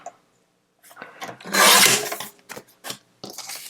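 Paper being cut to size for a mini composition book cover, a few soft scraping snips and then one longer louder rasping cut, close and clear with no talking.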